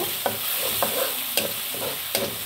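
Tomato paste sautéing in a pan with cumin and asafoetida, a steady low sizzle broken by four scraping stirs spaced roughly half a second apart, close and moderately loud, with no talking.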